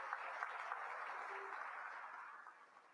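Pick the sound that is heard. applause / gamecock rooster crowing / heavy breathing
applause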